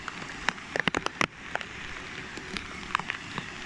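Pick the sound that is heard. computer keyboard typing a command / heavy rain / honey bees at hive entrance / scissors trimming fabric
heavy rain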